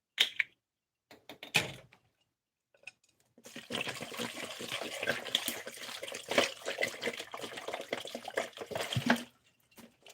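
Non-fluoride water runs steadily for several seconds after a few brief knocks and clicks, a close, hissing gush that stops abruptly near the end.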